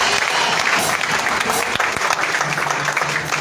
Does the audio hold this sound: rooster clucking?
no